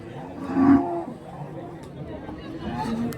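At the Bagalur cattle market near Hosur, a cow gives one loud, drawn-out low moo close by. Fainter lowing and a murmur of crowd voices continue behind it.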